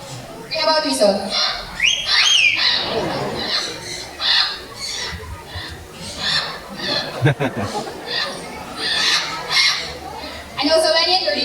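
A trained talking bird at a bird show gives a whistle imitation among short squawky, chortling calls, with an announcer's voice and audience chatter around it.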